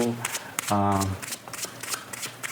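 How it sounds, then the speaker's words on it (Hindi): Tarot cards being shuffled by hand during a card reading, a quick riffling rustle with a louder burst partway through, heard alongside a speaking voice. "let's shuffle the cards"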